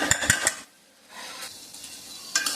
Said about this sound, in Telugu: ఇది ఒక 2 మినిట్స్ ఇట్లా మగ్గాలండి కాయగూర.